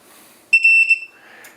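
An antenna tuner paired with a Mercury IIIs amplifier emits a short run of clear, loud electronic beeps on power-up, tapping out Morse code R in a quick short-long-short pattern in a quiet shack.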